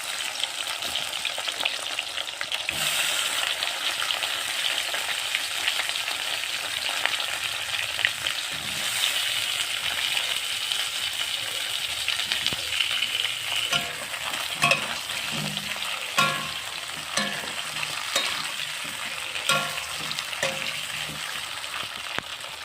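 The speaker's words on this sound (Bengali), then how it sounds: "কাঁচা পটলগুলোকে ভেজে নেব মাছের ঝোলের জন্য" Raw pointed gourd (potol) frying in hot oil in a pan for fish curry, a steady close sizzle with occasional stirring scrapes and crackles throughout.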